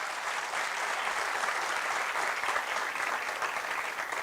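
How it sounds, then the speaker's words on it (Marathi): An audience at a comedy show applauds steadily, a dense even wash of clapping that holds at moderate loudness throughout. "टाळ्या वाजवा एकदा त्यासाठी"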